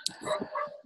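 A dog in a seminar audience gives a few quick, sharp barks and yips, fairly close and loud, in under a second.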